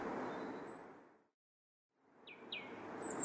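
A few faint, thin bird chirps and quick tweets over a soft wash of background noise that fades out briefly in the middle.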